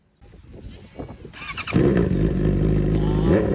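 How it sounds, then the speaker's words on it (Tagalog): A Honda CBR650R motorcycle with a full-system exhaust and dB killer fitted starts and revs with a muffled, throaty exhaust, rising then holding a steady loud drone. "May ano pa yan, DB killer kaya ganyan ang tunog."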